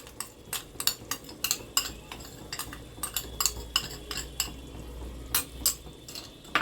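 Cream (malai) is stirred into mutton curry over low heat, with a spoon clinking and scraping against the pot in quick uneven strokes above a faint simmer.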